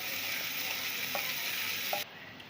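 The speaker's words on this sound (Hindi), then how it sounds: "लहसुन और प्याज को हम इतना भुनेंगे कि लहसुन और प्याज हमारे लाइट गोल्डन हो जाएं।" Garlic and onion fry in hot oil until light golden, giving a dense, continuous sizzle that is close and even. A few faint stirring scrapes come through before the sizzle drops sharply near the end.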